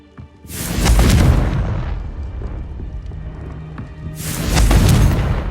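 Two deep booming blasts from the Confringo blasting curse in Hogwarts Legacy, one near the start and one near the end, each a loud rumbling burst with a long rolling decay.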